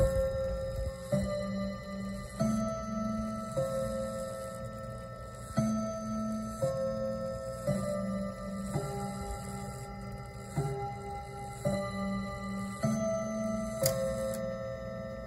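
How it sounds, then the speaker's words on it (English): A mantel clock plays the Westminster chimes, a clear sequence of ringing notes struck one after another in a slow, even melody, each tone ringing on and overlapping the next, heard close and alone in a quiet room. "Oh, it's got the Westminster chimes."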